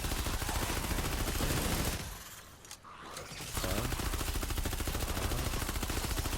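Rapid-fire Spec Ops SMG gunfire in Fortnite Save the World, a dense continuous burst of shots that stops briefly around the middle before resuming just as loud and relentless.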